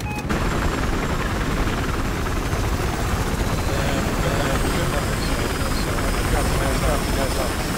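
A transport helicopter in the video game Battlefield Hardline, its steady rotor thrum and engine roar filling the clip continuously at close range, with voices talking over it.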